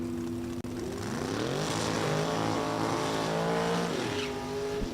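A 1973 Opel GT drag car with a 565-cubic-inch engine roars loudly and steadily at a Super Gas elimination, its engine note climbing and shifting pitch as it accelerates down the strip.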